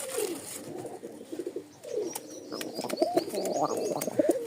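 A Rajshahi Giribaz pigeon coos in a series of soft, throaty calls close by, mixed with a few higher chirps and a busy background.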